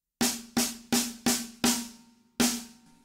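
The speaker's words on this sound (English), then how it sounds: "another one of my favourite double stroke combinations is a 6-stroke roll" A six-stroke drum roll built from two doubles followed by two singles, six sharp resonant strikes in quick succession with a short gap before the last, each ringing with a clear pitched tone, played alone.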